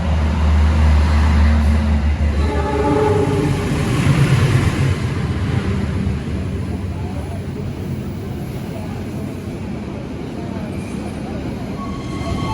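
The Argo Bromo Anggrek passenger train pulling into a busy Indonesian station, a heavy rumbling roll with a low horn-like tone early on, fading gradually amid crowd and platform noise.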